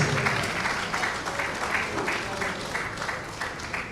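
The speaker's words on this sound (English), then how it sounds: "I believe the Honorable Minister deserves a resounding round of applause." Steady audience applause at a Nigerian ministerial briefing session honouring the Honorable Minister: dense, even clapping from a sizable crowd, loud and sustained, with no voices over it.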